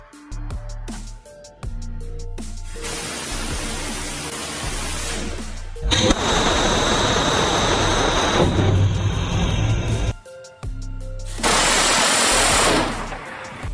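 Phalanx CIWS close-in weapon system on a US Navy ship firing several long, loud bursts at a very high rate of fire, each a dense continuous roar separated by short pauses, with no talk.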